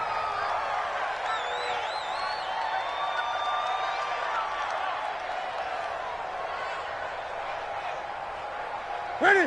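Football stadium crowd at a Detroit Lions game murmurs at a distance beneath a steady commentator voice, with a faint swell of cheering near the end.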